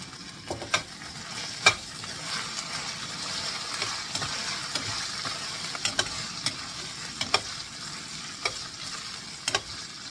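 Green peas are stirred into onions frying golden for a paneer peas pulao. A steady close sizzle carries frequent sharp clicks and scrapes of the spoon against the pan.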